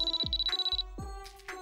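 A mobile phone ringtone plays as a steady high electronic tone that repeats in short pulses, with a brief gap partway through. It is joined by low thuds and swooping cartoon-like effects, and no one speaks.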